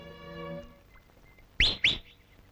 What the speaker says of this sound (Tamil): காலங்காத்தால விசில் அடிச்சுட்டு.